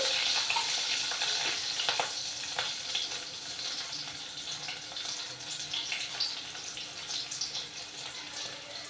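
Dried red chillies frying in a pan, a steady close sizzle with crackling pops, loudest at the start and easing slightly, no talk.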